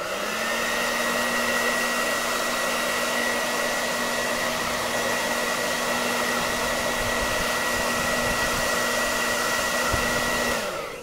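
A heat gun blowing hot air onto a Surface Book screen during screen removal, a loud, steady, close whirring blast with a constant motor hum that holds for about ten seconds and then switches off.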